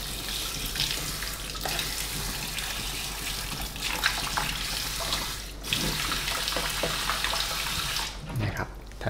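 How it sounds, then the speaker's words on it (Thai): Tap water running into a container to soak dried fish, a steady rushing pour that continues throughout, with someone talking over it. "นำมาใส่แช่น้ำทิ้งไว้นะครับ"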